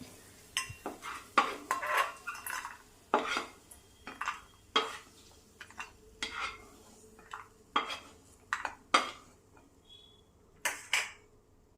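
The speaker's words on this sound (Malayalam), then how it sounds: "വീണ്ടും ഇളക്കി കൊടുക്കാം" A metal spoon scrapes and clinks repeatedly against a pan while rava is stirred for rava laddu, in irregular strokes every second or so, close and fairly quiet.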